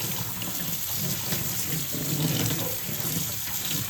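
Running tap water pours steadily into a sink as drumstick flowers are rinsed under it, a continuous close splashing flow with no voices.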